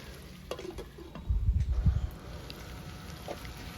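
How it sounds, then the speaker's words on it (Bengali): Cauliflower sautéing with green chili and ginger paste over medium-low flame, with a brief burst of stirring and sizzling near the middle and a soft, steady frying hiss around it. "এখন কাঁচা লঙ্কা আর আদা বাটাটা দিয়ে দু তিন মিনিটের জন্য ভালো করে ফুলকপির সাথে কষিয়ে নেবো"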